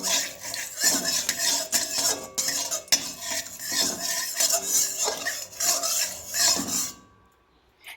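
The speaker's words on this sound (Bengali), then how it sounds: "কড়াইয়ের চারিদিকে আমরা ভালোভাবে ঘিটিকে লাগিয়ে দিচ্ছি" A spoon scrapes and rubs around a hot kadai as ghee is spread over its inner surface, giving continuous metallic stirring and scraping that stops near the end.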